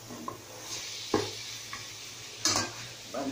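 Pansit sautéing in a pan, with a low sizzle running underneath. Three or four sharp scrapes and clinks of a utensil against the pan break through it, close and brief.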